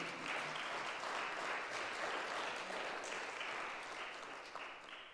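A church congregation gives a long, loud, steady round of applause for Christ during a Spanish-language sermon, dense clapping filling the space without pause and fading slightly at the end.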